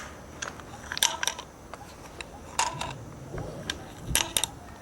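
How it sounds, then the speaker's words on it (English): A KLR motorcycle fork is tilted back and forth, and its damper spring gives off several light metallic boings and clicks at irregular intervals in a quiet workshop, close up and fairly soft. "only hear the fork damper spring going doing doing doing"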